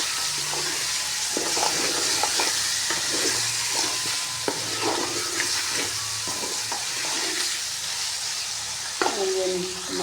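Tomatoes cooking down in a pan for a chicken masala gravy give a steady, close sizzle and frying hiss throughout, broken by scraping stir strokes and occasional clinks, with no talking.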